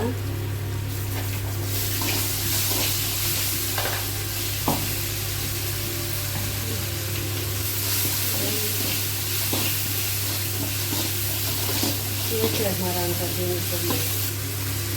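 Goat blood fries in a pan with a continuous sizzle, broken by occasional scraping and stirring clinks, close and steady.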